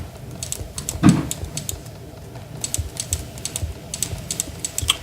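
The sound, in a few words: computer keyboard typing and mouse clicks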